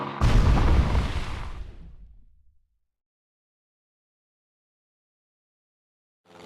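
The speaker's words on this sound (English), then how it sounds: "In this particular game, they have a bombing run." A bombing-run explosion in the World War II flight game Sid Meier's Ace Patrol: Pacific Skies, one heavy, loud blast that rumbles and fades over about two seconds into silence before a new sound starts at the very end.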